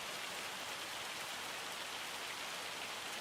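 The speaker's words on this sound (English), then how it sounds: "Rain until about 10 o'clock." Steady rain falls in Farming Simulator 25, a constant, even hiss of drops that fills the whole clip without pause, with no voices over it.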